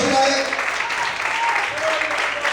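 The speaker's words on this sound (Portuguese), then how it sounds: "Será que você pode aplaudir a Ele?" Church congregation applauding during a sermon, a moderate continuous wash of clapping from many hands with speech heard over it.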